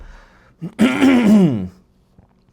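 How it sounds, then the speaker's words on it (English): A single drawn-out, voiced throat clearing, close and fairly loud, lasting about a second with a short grunt just before it. "I had to clear my throat"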